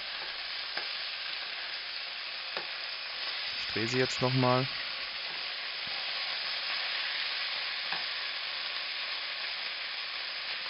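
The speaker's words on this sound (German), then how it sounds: "die Rouladen waren jetzt etwa 10 Minuten in der Pfanne" Beef roulades fry in a pan with a steady, bright sizzle, briefly interrupted by a scraping turn of the meat as someone speaks quietly over the hiss.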